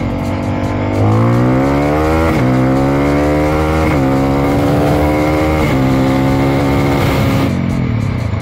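A big-bore dual-sport motorcycle accelerates hard in second gear, its engine note climbing in loud rising sweeps between quick shifts, up close and alone.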